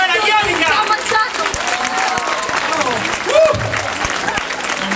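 Audience applause at an outdoor music festival stage show, a dense steady wash of many hands clapping for the full stretch, loud and continuous, with a brief whistle or shout rising through the crowd.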